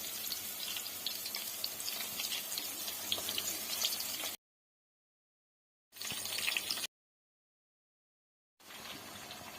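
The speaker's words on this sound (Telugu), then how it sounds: "మసాలా వంకాయ వేసిన తర్వాత నెమ్మదిగా ఫ్రై చేసుకుంటూ ముక్కలు విడిపోకుండా నెమ్మదిగా కలుపుకుంటూ ఉండాలి." Masala-stuffed brinjal fries in oil with a steady, hissing sizzle, broken by two silent gaps before the frying sound resumes.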